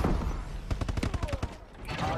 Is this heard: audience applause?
no